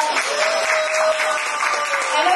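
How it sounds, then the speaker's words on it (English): A crowd at a business brunch gives a round of applause, with loud, dense and sustained clapping throughout, and a faint sustained tone running beneath it. "can we just give one more round of applause for Linda?"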